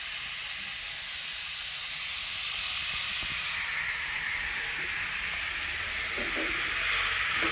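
Grated carrot halwa roasting in ghee in a pan gives a steady, fairly loud hiss that runs without a break and swells slightly toward the end, with a few soft knocks underneath.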